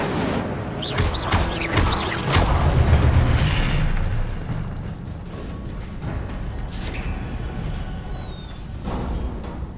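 Incendio fire spell cast in the video game Hogwarts Legacy: a sustained roaring, booming burst of flame that swells over the first few seconds and then settles into a steady crackling rumble, with bright flickering accents.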